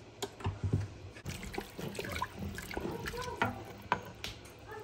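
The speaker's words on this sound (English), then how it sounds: "Add 6 cups of water." Six cups of water poured into a soup pot for a doubled batch of soup, a steady splashing trickle with brief thuds and clinks, a voice heard faintly in the background.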